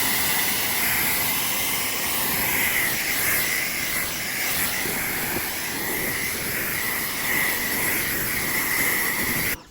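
ARXP high-flow pressure washer, rated 2.0 GPM at 1000 PSI, blasting water through a 15-degree nozzle: a steady, loud, continuous hiss and spray that holds even for about ten seconds before cutting off abruptly.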